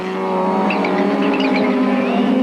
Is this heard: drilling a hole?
no